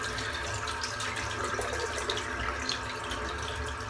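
A shaving brush is rinsed under a running tap, making a steady, close hiss and splash of water that lasts the whole time with no voices.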